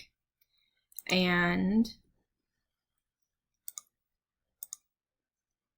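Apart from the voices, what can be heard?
mouse clicks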